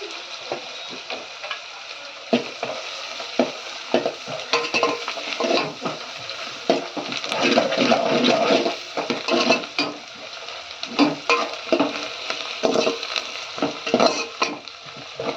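Ginger paste and turmeric stirred into a fish curry pan, with steady scraping and clinking of the spoon against the pan in an irregular rhythm over a soft sizzle, close and fairly loud, no voices.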